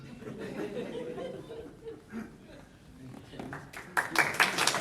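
A small audience chuckles and murmurs softly, then scattered clapping breaks out near the end, brief and moderately loud with light laughter mixed in.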